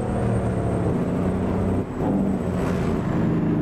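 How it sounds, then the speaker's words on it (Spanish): A custom Thomas school bus engine in American Truck Simulator, a loud steady low drone with a faint high whine running above it, briefly dipping before resuming. "Me encanta cómo suena este carro."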